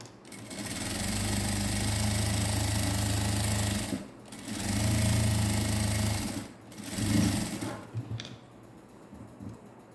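A sewing machine runs in bursts while stitching a net blouse, a loud fast mechanical whirr that stops and starts three times with short pauses between runs, ending with a quieter fade.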